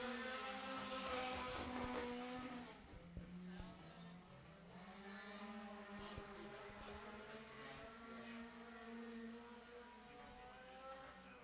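Race cars in a front-wheel-drive feature at Ponderosa Speedway roar past in a sustained, loud engine drone with shifting pitch, heard under continuous commentary.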